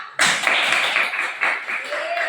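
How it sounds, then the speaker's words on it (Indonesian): A class of young children clapping their hands together in a classroom, a sudden loud burst of rapid, dense clapping that carries on steadily, close by, with a voice faintly audible underneath. "Kita kasih dulu tepuk tangan untuk mereka"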